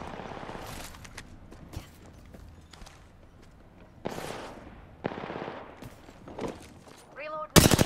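Gunfire from a firefight in the battle royale shooter Apex Legends, with scattered bursts and single shots, some sharp and near, others muffled, ending in a loud rapid volley, mixed with game sounds.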